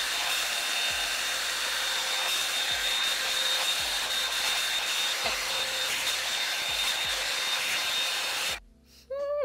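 Revlon hair styler blowing hot air on its high heat setting, a loud, steady whirring hiss with a thin high whine, running close and continuously before cutting off near the end.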